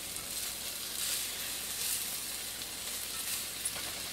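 Onions for French onion soup sizzle gently as they caramelize in a pan, a soft, even hiss that stays faint and steady with no voices.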